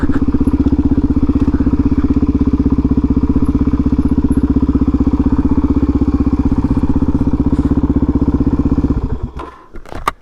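Motorcycles of a biker gang ride by on a park road, a loud, steady throbbing engine drone held close for about nine seconds before it falls away into rustling and handling noise.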